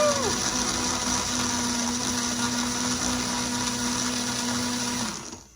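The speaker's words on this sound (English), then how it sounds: "Gotta love that Vitamix." Vitamix blender whirs a thick Orange Julius drink, a loud steady motor roar held for several seconds, its pitch dropping briefly at the start before it winds down and stops at the end.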